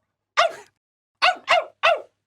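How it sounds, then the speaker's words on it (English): A dog barks happily outdoors, one bark followed after a pause by three quick barks in a row, close and clear with nothing else heard. "Gelert looked at his master and barked happily."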